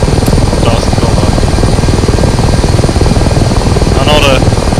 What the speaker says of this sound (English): Spool up the engines.